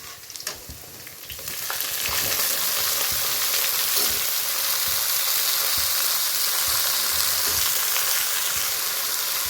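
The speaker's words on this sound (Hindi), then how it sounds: "मैंने मेथी आलू भी छौंक के रख दिए थे।" Methi aloo, potatoes with fenugreek, frying and being tempered in a pan, giving a steady loud sizzle after a brief quieter start, with occasional stirring clatter and no voices.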